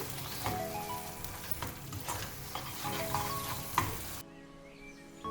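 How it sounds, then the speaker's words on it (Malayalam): Potato halwa with saffron cooking in ghee in a pan, giving a steady close sizzle with scraping stirring strokes that stops abruptly near the end, leaving near silence. "ഇതിലേക്ക് 1 ടേബിൾ സ്പൂൺ നെയ്യ് കൂടി ചേർത്ത് കൊടുക്കാം. നന്നായി മിക്സ് ചെയ്യാം."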